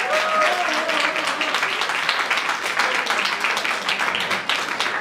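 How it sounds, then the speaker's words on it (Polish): Hearty audience applause for a drummer at a youth jam concert in a cultural centre, loud, dense clapping with crisp individual claps standing out, a brief sustained tone near the start. "Wielkie brawa na niego."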